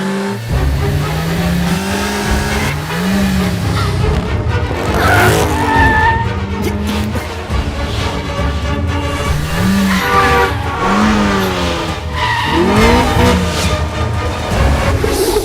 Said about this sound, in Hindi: इतना तेज क्यों चला रही हो?